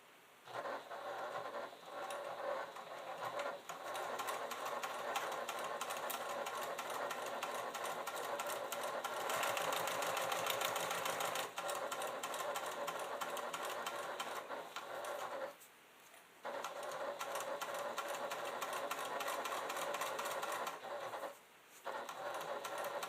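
Close, continuous whir of a sewing machine stitching a quilted leather clutch, running steadily with two brief pauses.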